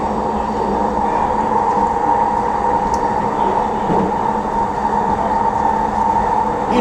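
A Vancouver SkyTrain electric train running, heard from inside as a steady loud rumble and motor hum with a faint clack midway, continuous from start to finish.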